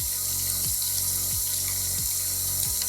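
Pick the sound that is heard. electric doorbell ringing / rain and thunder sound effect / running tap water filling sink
running tap water filling sink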